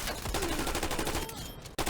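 Rapid automatic gunfire rattles from a weapon in Call of Duty Black Ops multiplayer, a brief dense burst of shots fired around a corner, fairly quiet and ending abruptly.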